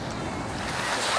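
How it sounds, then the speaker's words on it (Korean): Ocean waves wash steadily over a pebble beach at night, a loud, continuous broadband rush with no break, close to the shore. "파도 소리가 찰랑찰랑 나는데"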